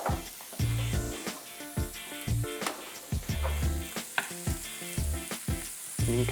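Chopped onions fry in a pan with olive oil and butter, a steady close sizzle broken by repeated bursts of stirring and scraping throughout.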